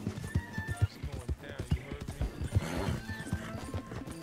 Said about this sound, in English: I couldn't turn my horse in the right direction for a second.